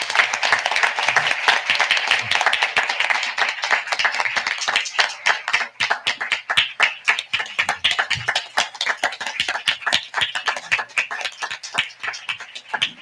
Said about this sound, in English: Yes, you can stand up and clap